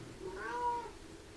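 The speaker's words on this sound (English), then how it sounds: "And I've got a meowing pussycat" A pet cat meows once indoors, a single drawn-out, rising-and-falling cry at close range over quiet room noise, with no talking.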